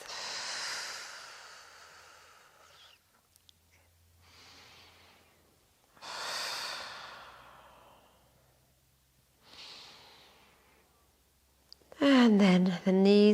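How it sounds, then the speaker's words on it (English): Slow, deep breaths during a gentle yoga flow, long soft exhalations rising and fading in a steady rhythm with quiet gaps, then a brief voice-like sound at the end. "Gentle, deep breaths."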